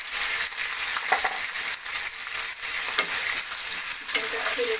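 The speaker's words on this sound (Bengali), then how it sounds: "চিকেনটা ফেলে দিয়ে একটু নাড়াচাড়া করছি।" Chicken pieces fry in a hot pan while being turned and stirred, a loud continuous sizzle broken by scraping strokes and occasional crackles, close up and without talk.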